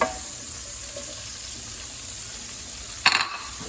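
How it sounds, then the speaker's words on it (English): Onion frying in butter and fat for a slow-cooker jugged hare gives a steady, even sizzle. A short, louder splutter of crackling comes near the end. "a couple of tablespoons of butter to the fat. I'm going to put in my onion"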